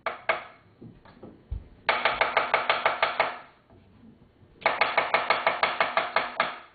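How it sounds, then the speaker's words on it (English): Onions chopped with a knife on a cutting board: two fast bursts of rapid, evenly spaced sharp knocks, each run about a dozen strokes, separated by a few slower, scattered cuts and brief pauses. "we're going to chop up the onions"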